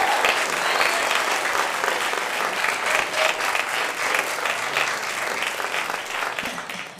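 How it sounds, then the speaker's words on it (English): A live audience at a Nerd Nite London talk claps warmly to welcome a comedian onto the stage, giving steady, dense applause that stays loud throughout before easing slightly at the end. "can we have a warm round of applause"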